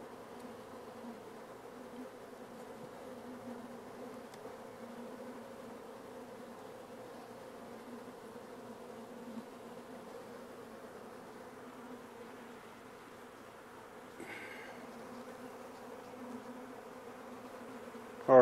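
Honey bees crawl over a hive frame of capped brood and honey, their steady droning hum continuous and close throughout, with a brief soft rustle near the end.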